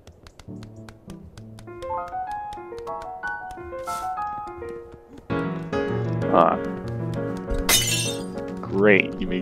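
A glass pint shatters in Untitled Goose Game with a sharp, bright crash over plinking background music. Smaller clinks and taps come before and after the main break.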